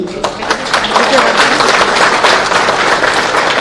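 Loud applause from a crowd, dense continuous clapping filling the space.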